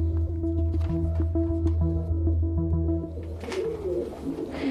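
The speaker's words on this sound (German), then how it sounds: "Wie viele Tauben wohnen nach einem Jahr im Taubenschlag?" Pigeons cooing in a city pigeon loft, a steady run of low, soft, overlapping coos from several birds close by, with a burst of rustling wing noise near the end.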